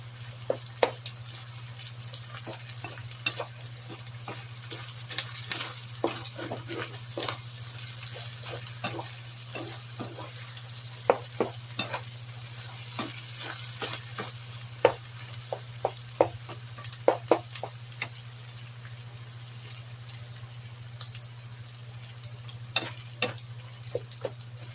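Ground pork with potatoes and carrots gets stirred in a pan: a soft sizzle runs under irregular scraping clicks and taps of a spoon on metal, with a steady low hum behind, no voices.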